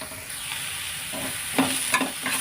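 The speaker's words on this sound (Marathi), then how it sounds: "बटरमध्ये मशरूमला फ्राय करून घ्यायचं" Mushrooms fry in butter in a pan, a continuous sizzle broken by a few stirring scrapes and clacks toward the end, close and without talk.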